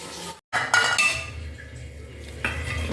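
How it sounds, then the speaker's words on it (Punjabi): Dishes and pots being scrubbed and washed, with close clinks and clatter of metal vessels and a brief pause partway through. "ਇਹਨੇ ਆਪਾਂ ਭਾਂਡੇ ਮਾਂਜਦੇ ਆ"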